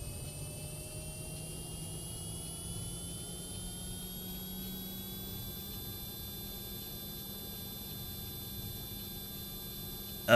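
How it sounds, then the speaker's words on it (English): Airliner jet engines give a steady, moderately distant roar layered with thin whining tones that slowly rise in pitch, with no voices over it. "These freaking airliners keep ruining my vibe, bro."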